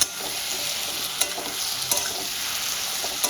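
Fried elephant foot yam and potato pieces are stirred into oily cooked masala, giving a steady close sizzle with a few sharp scraping knocks of the spoon against the pan.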